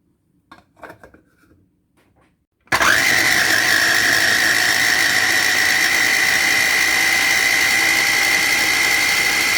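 A motorized mixer starts abruptly after a few soft kitchen clinks and then whirs loudly and continuously, blending a sugar-free pudding mixture with cocoa.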